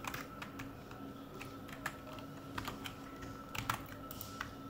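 Quiet, close tapping on a computer keyboard during HTML coding work, irregular bursts of keystrokes over a faint steady hum.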